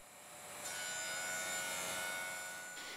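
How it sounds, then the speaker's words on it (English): A bandsaw ripping thin strips of wood for picture and mirror frames, a steady close rasping cut that swells in and fades over a few seconds with no talk. "as I'm ripping off strips on the bandsaw"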